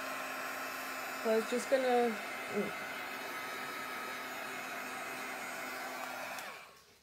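A hair dryer drying paint on a mixed media plaque made with industrial denim rice paper blows a steady, close whirring hiss. A voice speaks briefly over it, and the airflow winds down just before the end.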